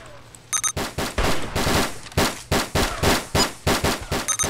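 Rapid bursts of gunfire from a Roblox shooting game, a string of loud, sharp shots fired in quick clusters with short gaps, close and punchy throughout.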